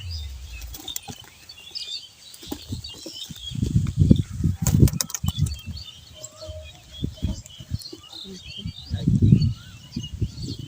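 Racing pigeons released in an open field about ten kilometres from their loft flap their wings in flight, giving repeated bursts of wingbeats that swell and fade with some faint chirping; a person talks intermittently.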